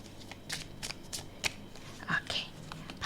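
Tarot cards shuffled by hand, a run of quick riffling bursts and soft flicks, close and fairly quiet, with no talking over them.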